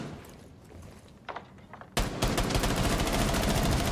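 Shotgun fire in the tactical shooter game Rainbow Six Siege: quiet background with faint clicks, then a sudden loud blast that gives way to a dense, sustained stretch of gunfire filling the rest of the clip.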